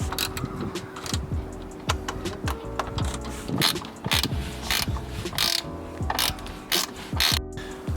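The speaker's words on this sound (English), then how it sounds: "I'm going to quickly get another middle bolt in, get it tightened up a bit" A ratchet tightens a middle bolt on a car's front splitter, a Ford Fiesta: repeated bursts of close, loud clicking in quick rhythm, with brief pauses between strokes, no talk.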